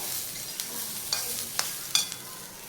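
Sweet corn chivda roasting with salt in a pan, giving a soft, steady sizzle broken by a few sharp scraping clicks of the stirring spoon against the pan, with no talking.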